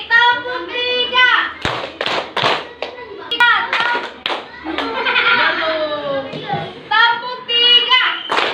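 A classroom of children claps the three-beat clap in repeated sharp bursts of loud, close hand claps, with children's voices chanting and calling out between and over the claps.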